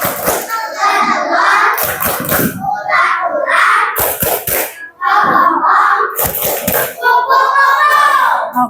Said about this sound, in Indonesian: kita tepuk kupu-kupu dulu ya